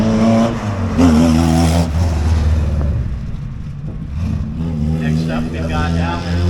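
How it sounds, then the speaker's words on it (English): A 1933 sprint car with a four-port Riley head on a B-block Ford engine runs at a vintage race car event, a loud steady engine rumble that swells and settles, with a voice talking over it. "This car's a 1933 sprint car with a 4-port Riley head on a"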